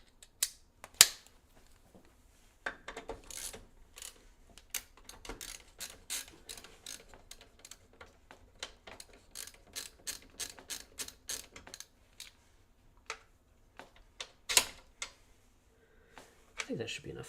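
Screws being unscrewed while a gaming PC is built into a large case: a long run of quiet, irregular clicking and ratcheting ticks, some louder snaps scattered throughout, close up.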